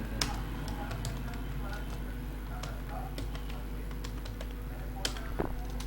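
Fingers tap a computer keyboard in scattered clicks and short bursts, faint and steady beneath a low background hum, with occasional sharper keystrokes standing out.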